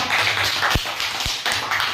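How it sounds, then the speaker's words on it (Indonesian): Classmates clapping for a student group in a school PE lesson, a few separate claps over a background of scattered hand noise, close and fairly loud. "Tepuk tangan untuk kelompok 4."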